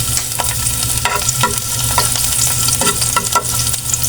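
Hot cooking oil crackles and sizzles loudly and steadily as garlic and onion are sautéed for a mackerel sardine dish, with occasional scraping stirs of a utensil against the pan.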